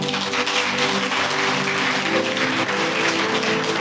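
A Catholic congregation applauds in church, a dense, continuous wash of clapping at even loudness throughout, with sustained musical tones running underneath.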